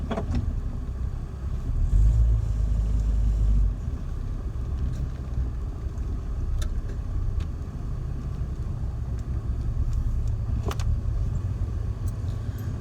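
An off-road vehicle's engine idles in sand at the edge of a bank, a low steady rumble with a brief louder surge, close and continuous, with no talk.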